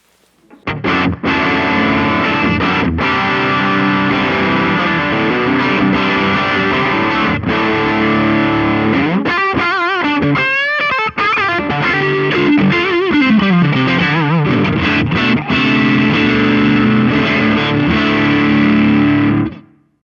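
Loud, heavily distorted bass guitar riff with chorus-like effects runs continuously for about twenty seconds, played through a Boss Waza Tube Amp Expander with Mix Assist engaged, and no voices.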